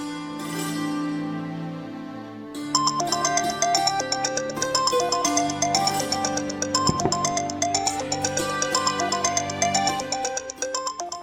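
A melodic electronic phone ringtone plays steadily and fairly loud, its repeating tune starting after a quieter tonal opening, with no one speaking.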